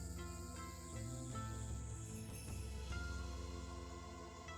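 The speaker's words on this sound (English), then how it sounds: "Cicadas from the few trees growing here." Cicadas in a few trees around a small shrine drone in a steady, faint, tonal buzz with pulsing layers, heard at a distance and with no talking over it.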